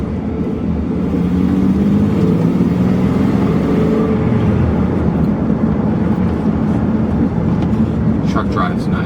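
Ford F-150 pickup truck engine revs and accelerates on a road, a loud continuous low drone heard from inside the cab, steady and building, with a driver speaking over it.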